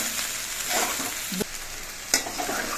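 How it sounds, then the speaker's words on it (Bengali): Okra and potato fry with poppy seeds being stirred in a pan, a continuous sizzle with a couple of sharp scraping knocks of the spatula against the pan. "এবার এর মধ্যে দিচ্ছি এক চামচ পোস্ত পোস্ত দিয়ে নেড়ে চেড়ে মিশিয়ে নিতে হবে"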